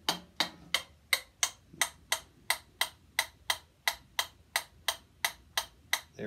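Mechanical metronome clicking rapidly at 168 beats per minute, a steady, crisp train of close, evenly spaced ticks with no voices.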